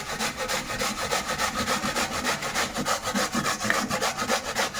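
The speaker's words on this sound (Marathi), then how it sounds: "हा जो बटाटा आहे तो किसून घेऊया" A raw potato is grated by hand in fast, rhythmic scraping strokes, roughly four per second, close and steady for about five seconds with no talking.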